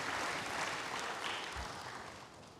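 Worshippers in a church applauding for God, a broad steady roar of many hands clapping that holds evenly and eases slightly toward the end, heard from a distance.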